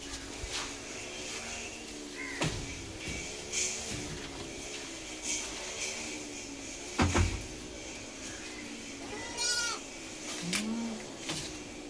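Several young goat kids, two males and a female about three months old, bleat now and then amid ambient clatter and knocks at a livestock sale.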